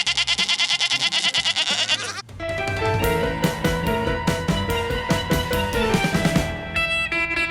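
Goats bleat loudly and repeatedly in a rapid, wavering rhythm, close by, with several animals calling over one another.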